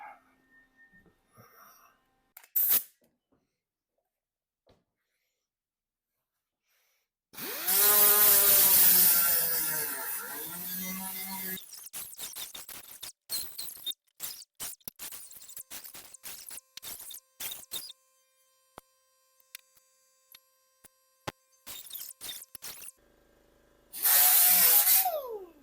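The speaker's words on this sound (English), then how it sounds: "I'll grind those off" An angle grinder grinds welds off a dented truck tailgate, loud whining bursts of a few seconds each with shorter intermittent grinding touches and quiet gaps between them.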